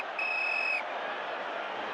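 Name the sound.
referee's whistle at end of football match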